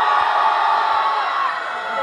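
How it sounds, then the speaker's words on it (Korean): A large concert crowd at a K-pop girl group performance on a university campus cheers and shouts, a loud, sustained roar of many voices that holds steady and eases slightly toward the end. "여러분, 함성!"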